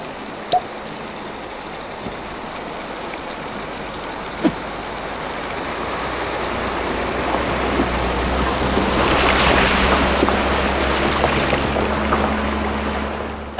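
River water rushing in Utah during a crossing in a converted Sprinter van, a steady broad wash of flowing water and road noise that swells gradually toward the end, with a few sharp knocks.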